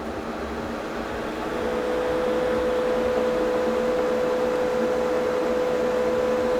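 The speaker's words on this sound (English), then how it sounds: "It's probably a good idea if I actually switched on this booth, just to help suck out" Airbrush spray booth extractor fan running steadily, a close, continuous whooshing hum with a faint tonal whine that swells slightly after the first second and then holds level, with no voices.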